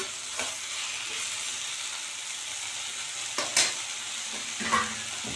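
Ingredients for a spicy chutney sauté in a pan with a continuous, even sizzle, broken by a few brief stirring scrapes and clinks near the end, no one speaking.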